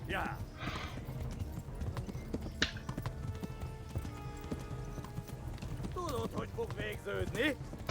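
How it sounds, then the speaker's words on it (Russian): A horse canters in the game Kingdom Come: Deliverance with steady, close clip-clop hoofbeats and a brief whinny, while someone talks over it throughout. "Ага, легкий галоп."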